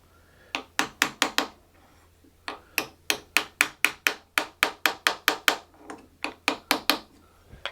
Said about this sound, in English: So I take a little hammer